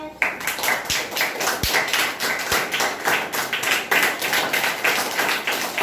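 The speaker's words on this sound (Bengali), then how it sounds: "হাততালি" Audience clapping for prize winners at a primary school indoor plant exhibition, continuous rhythmic hand claps close and loud, with a few dull thumps mixed in.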